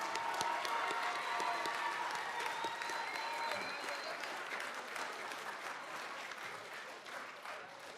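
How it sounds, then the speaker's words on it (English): A school band concert crowd applauds the band students, a moderately distant, even patter of many hands that fades slightly over eight seconds, with a faint tone and stray voices beneath. "Can we give them a round of applause?"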